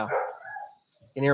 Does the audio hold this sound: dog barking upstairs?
yes